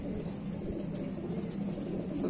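Pigeons from Saharanpur cooing softly in a loft in Daraganj, Prayagraj, a faint, steady low murmur of coos with no talk.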